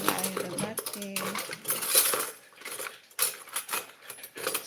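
Metal spoons and cutlery clink against dishes during a family meal at home for Eid, with repeated bright taps and clatters close by and some quiet voices in the background.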